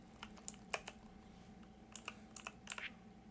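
Clicks from a computer keyboard come in short irregular bursts while a Batman: Arkham Origins game is played, faint and close over a low steady hum.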